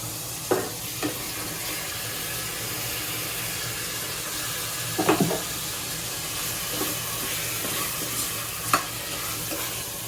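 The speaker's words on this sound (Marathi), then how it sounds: "आणि मॅरिनेट केलेलं चिकन टाकते" Marinated chicken fries in oil in a pan with onion, coconut and garlic, a steady sizzle broken by a few clattering stirs of a spoon, close and moderately loud.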